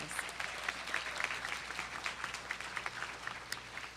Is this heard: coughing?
no